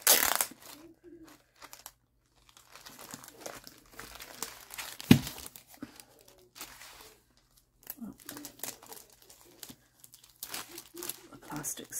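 Plastic packaging on a diamond painting kit crinkles and tears during unboxing, with irregular close rustles and one sharp crackle among them, while a person talks.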